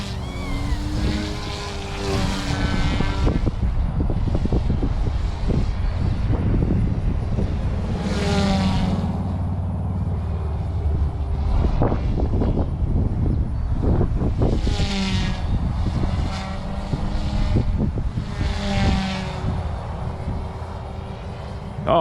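A Blade Infusion 180 micro RC helicopter flies steadily with a continuous high rotor and motor whine that rises and falls in pitch as it manoeuvres, loud and close throughout.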